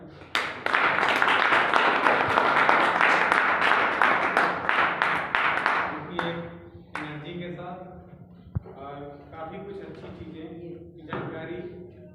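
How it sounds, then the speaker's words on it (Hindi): Enthusiastic audience applause at a CWT awareness seminar in Uttar Pradesh, a dense burst of clapping for about six seconds that then breaks off and gives way to someone speaking. "एक बार पुनः जोरदार तालियां।"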